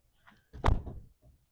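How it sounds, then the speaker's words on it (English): Van doors swing shut with a solid, close thunk, one main impact flanked by two softer knocks, heard alone without talk. "I'm going to close these doors"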